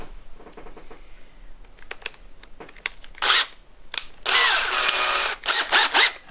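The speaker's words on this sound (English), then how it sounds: "So the first thing I'm going to do is put this in my drill." Power drill spinning a wheel marking gauge screw held in its chuck, several short whirring bursts and one longer loud run, mixed with clicks and handling noises close by in a woodworking shop.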